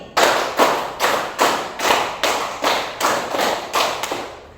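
A group claps in a steady rhythmic pattern during a classroom activity, about ten evenly spaced loud claps close by, with no talking.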